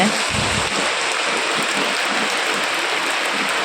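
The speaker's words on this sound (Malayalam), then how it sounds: "നല്ല മഴ അല്ലേ" Heavy rain pours down steadily, a dense, loud, unbroken hiss of water falling on surfaces close by, with no voices.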